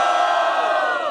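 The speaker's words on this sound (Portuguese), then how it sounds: "Faz barulho quem gostou do MC GC." Crowd at a Brazilian rap battle roaring and cheering for MC GC, a dense sustained mass of shouts and whoops filling the space without letup.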